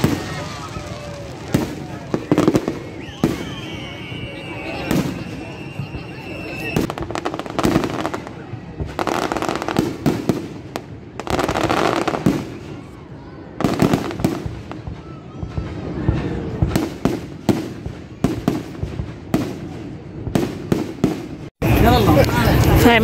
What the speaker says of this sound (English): Minute worth of fireworks.